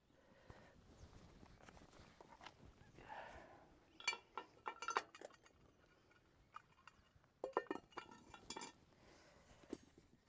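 A lid goes onto a CampMaid camp oven over heat beads at a campsite: faint metallic clinks and scrapes, a few clustered knocks and rattles at close range, with quiet gaps between.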